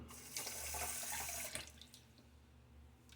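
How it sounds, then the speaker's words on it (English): Water splashing from a tap into a sink during a shaving routine, a soft hiss for about a second and a half that then stops, leaving faint drips and room tone, quiet and close. "A little splash of water now."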